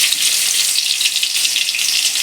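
Onions frying in oil in a pan for bitter gourd puli kuzhambu, a steady, loud, bright sizzle that stays even and close throughout, with no talk over it.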